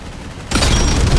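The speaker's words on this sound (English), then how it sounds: "Let's shoot this guy" Gunfire from a weapon in a shooter video game bursts in suddenly and loudly, a dense continuous volley of rapid shots filling the short moment.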